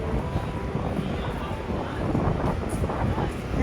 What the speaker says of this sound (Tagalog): Yan, mahangin.